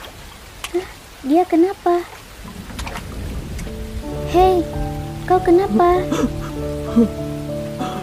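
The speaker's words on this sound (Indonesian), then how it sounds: "Hujannya awet." Rain falls steadily in the video game Sakura School Simulator, a soft continuous patter running beneath voices that speak through much of the scene.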